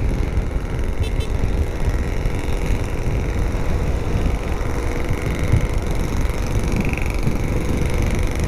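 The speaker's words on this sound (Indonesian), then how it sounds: "Waduh, depan ada mobil berisik banget" A noisy car travels on the road ahead along a highway, heard as a steady, loud broadband engine and road roar with wind noise, continuous and without clear breaks.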